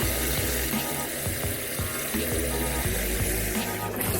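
Water steadily pours and gushes into a blender jar, about three cups for its self-cleaning wash cycle, a continuous loud splashing fill with no talking over it.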